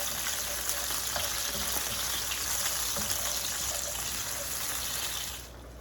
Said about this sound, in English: I'm just going to add my cherry tomatoes in there.